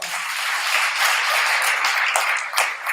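Audience at a women's leadership academy event applauding a speaker, a dense, steady wash of many hands clapping for about three seconds, loud and fairly close, with no speech over it.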